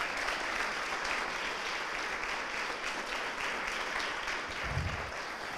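Church congregation applauding at a Spanish-language service, dense sustained clapping from a large crowd, loud and even throughout with no voices over it.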